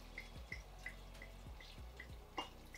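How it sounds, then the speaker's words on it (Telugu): Water from a glass bottle trickles into a cooking pot in a home kitchen, heard as a faint, uneven series of small drips and splashes spaced through a few seconds, with no talking. "సో ఇది ఇలా పట్టుకొని ఇలా అందంగా వాటర్ యాడ్ చేయాలి"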